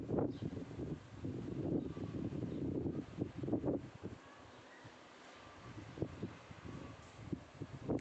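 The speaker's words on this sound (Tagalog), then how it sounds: "Ang sarap ng simoy ng hangin." Steady seaside wind rushing across the microphone, with rustling gusts rising and falling and a brief calmer lull midway.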